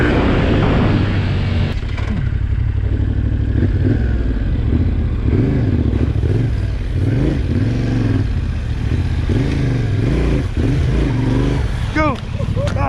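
An adventure motorcycle, a Husqvarna 701 or Yamaha Tenere 700, accelerating hard on dirt, engine droning loud and close with rising and falling revs throughout, a voice talking over it.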